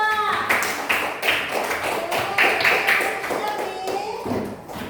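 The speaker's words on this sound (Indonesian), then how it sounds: "Tepuk tangan dulu untuk kelompok 2." Classroom applause for a student group at a junior high school, with many hands clapping in a close, uneven rhythm and voices calling out over the claps.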